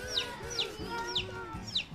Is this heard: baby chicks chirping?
yes